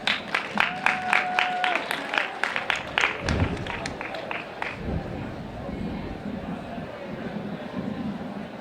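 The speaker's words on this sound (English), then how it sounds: "So let's give them a round of applause." An audience at a university student presidential debate breaks into scattered applause, with sharp individual claps in the first seconds that fade into a softer murmur of crowd noise and chatter.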